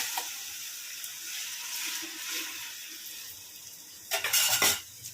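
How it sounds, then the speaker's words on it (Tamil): Half a kilo of chopped tomatoes drops into a pan of sautéed onions for a big batch of chicken gravy. A faint, steady sizzle runs throughout, then a short, sharp clattering burst comes near the end. "இப்போ வெட்டி வச்சுருக்கிற 1/2 கிலோ தக்காளியை நம்ம இப்போ இதில் போட்டுடலாம்"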